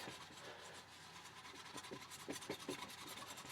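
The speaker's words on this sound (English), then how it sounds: "I use this SOS scrubber pad, and it really is working just fine" An SOS steel wool pad scrubbing rust off a motorcycle exhaust pipe, faint rasping friction that grows into quick back-and-forth rubbing strokes near the end, no talk.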